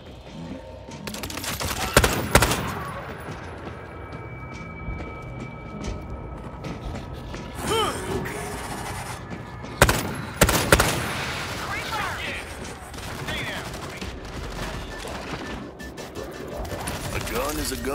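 Scattered gunfire from a World War Z: Aftermath match, irregular sharp shots and short bursts over a busy, clattering background, with voices talking throughout.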